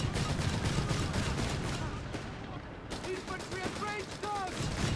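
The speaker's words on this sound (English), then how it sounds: "Got one squad equipped with the Breda Model 30 light machine gun." A Breda Model 30 light machine gun fires in Company of Heroes 3 amid a busy North Africa battle soundscape, with dense gunfire and bursts under a commentator's voice.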